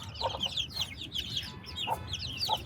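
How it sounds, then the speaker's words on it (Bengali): A hen clucks repeatedly ahead of laying an egg, sharp close clucks recurring in short bursts over steady farmyard background noise. "তুমি ডিম পারবা? এর জন্য কক কক করতেছ?"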